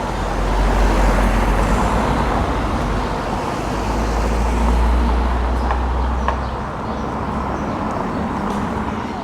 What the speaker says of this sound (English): I can't believe the amount of traffic that comes through